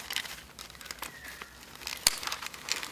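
An old eyelet is cut out of Oztent tent fabric, with close crinkling, snipping and tearing of the material in uneven bursts and one sharper crack midway.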